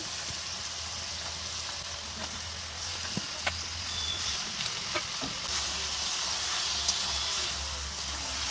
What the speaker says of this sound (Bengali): দিয়ে দেবো চিকেন